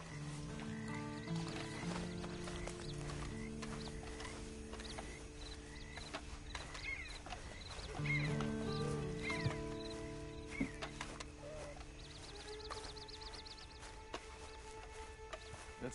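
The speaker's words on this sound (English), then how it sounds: "And you better get on this horse." Horse hooves clop at an irregular pace alongside occasional neighs in the video game Red Dead Online, set against a steady tonal music-like background.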